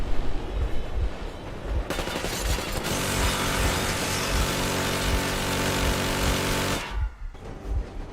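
Warning bursts of machine-gun fire in the Metro Exodus video game, loud and sustained, with a dense roar of rapid shots running for several seconds before cutting off sharply, preceded by heavier scattered thumps.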